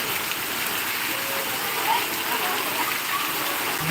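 Heavy rain pours down in a dense, steady hiss, constant and loud throughout with no pauses.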